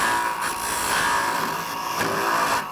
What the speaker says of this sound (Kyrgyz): Ушунун ичине оюп баштайбыз. Капкагын ичине оюп баштайбыз.